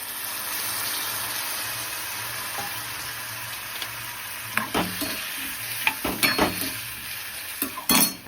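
A fenugreek and mango dish in a pan gives a soft steady sizzle, then louder bursts of sizzling and clattering stirring strokes come as water is added, ending in a sharp hiss, with no speech.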